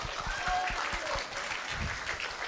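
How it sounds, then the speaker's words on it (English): An audience at a morning summer community gathering breaks into soft, fairly distant applause, a steady patter of clapping with no voices over it. "Can we give our brother a round of applause?"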